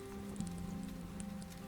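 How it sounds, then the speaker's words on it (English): Rain falling outside an old Irish café on an evening, a soft continuous patter with scattered drops, faint and low beneath a thin sustained tonal hum from inside. "listening to the rain outside"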